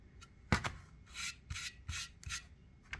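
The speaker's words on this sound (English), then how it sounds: "I'll keep sanding it till it's almost completely smooth" Quiet rasping strokes of sandpaper gently smoothing a flat microwave kiln surface, several back-and-forth passes close by, with one sharper knock near the start.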